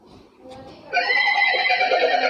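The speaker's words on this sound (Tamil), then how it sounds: "குதிரை விடுது" A Talking Tom toy lets out a loud, close electronic horse neigh with a drawn-out whinny that follows a brief softer lead-in.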